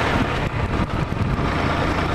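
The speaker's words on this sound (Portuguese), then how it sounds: "Tá vindo um caminhão de cana ali atrás" A sugarcane truck comes up from behind on a rural road, its broadband engine and road rumble steady and fairly loud throughout, with no clear rise or pass.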